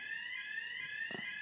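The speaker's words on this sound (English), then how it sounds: "fire alarms going off" A fire alarm sounds steadily, a continuous high-pitched electronic tone droning through the whole clip at moderate distance, with a brief soft knock near the end and no talk.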